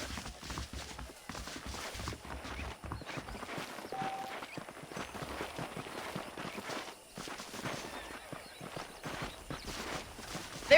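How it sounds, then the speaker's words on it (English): Horse hooves clip-clop steadily in the Red Dead Redemption video game, a continuous rhythmic trot of a saddled horse throughout, moderately loud with a faint background bed. "The horses are saddled up over here."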